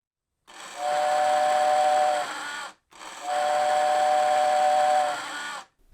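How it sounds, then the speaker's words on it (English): An electric toy train's steam whistle, a rotating wheel forcing air through flutes, sounds two long, breathy hoots in succession, each steady for about two seconds with a hissing airy edge, loud and close. "the rotating wheel still forces air through these flutes to make a convincing steam whistle sound"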